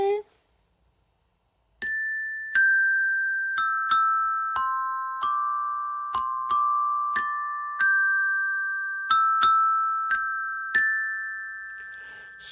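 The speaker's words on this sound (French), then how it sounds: "Tu joues la mélodie au carillon?" A carillon plays the melody of Auld Lang Syne, a sequence of clear, ringing bell notes struck one after another, each decaying slowly, with nothing else heard.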